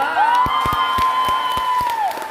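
Church congregation applauding and cheering during a sermon: a steady wash of claps with a long rising and falling whoop over it, fairly loud and close, tapering at the end.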